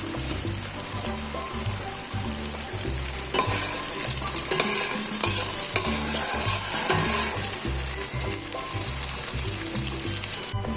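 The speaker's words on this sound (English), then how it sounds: "So first, we will saute our garlic and onions." Garlic and onions sautéing in a pan for Filipino-style spaghetti, a continuous close sizzle under loud rhythmic background music.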